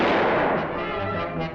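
A cartoon gunshot sound effect booms once, loud and close, then fades in a rumbling decay that lasts more than a second, with no talk over it.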